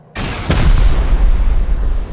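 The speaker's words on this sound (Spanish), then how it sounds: "me voy a tirarle tres cohetes" Rocket blast in the game Rust: a sudden loud explosion bursts in, followed by a sharp crack and a long, rumbling low-end roar that sustains and slowly decays.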